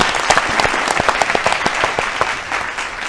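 Loud applause from a studio audience at an agricultural quiz show, dense clapping with some sharp individual claps standing out, steady for the whole stretch.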